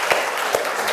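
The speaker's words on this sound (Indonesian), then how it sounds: "kita berikan aplaus untuk kelompok 4" A classroom of students claps for a presenting group, with a few distinct sharp claps spaced out over a second against a bright, steady wash of applause.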